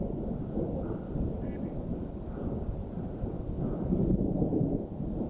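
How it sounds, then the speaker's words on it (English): Continuous low rumbling roar like distant rolling thunder during a hailstorm, steady and dense, with wind buffeting the microphone throughout. "It's just like a constant thunder."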